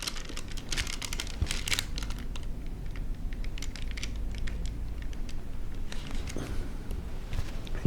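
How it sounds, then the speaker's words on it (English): No-stick parchment liner crinkling and crackling in a pie dish, close and fairly quiet, with irregular bursts of sharp rustles spread across the stretch and no talking. "in a pie dish, I have lined it with a no-stick parchment liner"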